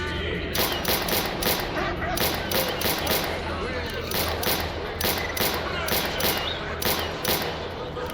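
Rapid bursts of gunfire in S.T.A.L.K.E.R.: Lost Alpha DC rattle steadily throughout, with a voice talking continuously over the shooting.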